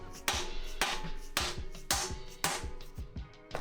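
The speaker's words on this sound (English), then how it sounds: "So you take your rubber mallet or whatever, smack it in." A rubber mallet strikes subframe bushings on a Lexus SC300 about every half second, six or seven solid, close thuds in a steady rhythm with quiet gaps between.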